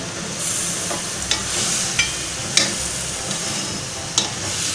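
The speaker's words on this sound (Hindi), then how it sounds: "ये मैं एक दफ़ा चला के देख रही हूँ कि नीचे से लग ना जाए," An onion, tomato and chili chutney sizzles steadily in a pan while a utensil stirs it, scraping through in a few distinct sweeps over the constant frying hiss.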